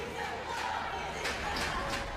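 Crowd cheering at a wrestling show. It is a distant, steady roar of many voices with a few brief swells, quiet and somewhat muddy.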